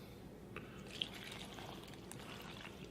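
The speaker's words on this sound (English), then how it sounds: "I've got 6 cups of flour, and I'm going to start adding water to it" Water trickles and pours quietly into a bowl of flour while dumpling dough for pot stickers is being mixed, a faint, close, steady dribble with a small drip near the middle.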